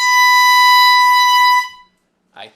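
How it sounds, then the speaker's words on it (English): An air horn rigged under a chair as a prank gives one long, loud, piercing blast that cuts off abruptly, followed by a brief faint noise. "Yes, an air horn."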